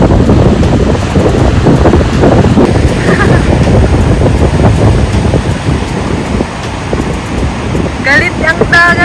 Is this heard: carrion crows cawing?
no